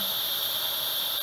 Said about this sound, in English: I just pressed the manual release to get the steam out.